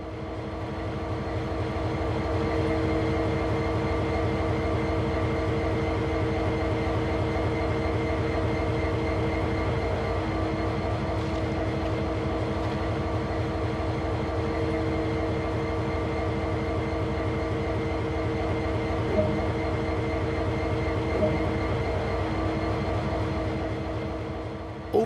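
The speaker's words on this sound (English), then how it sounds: "Known as an SD40-2, this locomotive is one of the most successful designs of all time" An idling SD40-2 diesel-electric locomotive with a 3,000-horsepower engine, in the Train Sim World 2 video game: a steady, droning engine hum with a low, rhythmic throb, constant and unbroken for the whole stretch.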